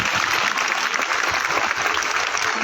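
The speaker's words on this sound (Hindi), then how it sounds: "जोरदार तालियां।" A large crowd at a school ceremony applauds in a dense, steady wash of clapping that stays loud and continuous throughout.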